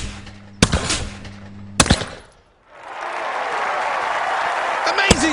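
Shotgun blasts from the London 2012 video game shooting event, two sharp close shots followed by crowd applause swelling and holding, with a further shot at the end.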